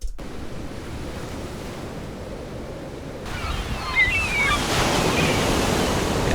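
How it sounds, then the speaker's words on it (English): Layered ocean roar builds from a steady windy wash into a fuller, louder surge as a wave crashes in, with broad hissing spray over the continuous low rumble of surf. "I also wanted to have the sound of just literally a wave hitting"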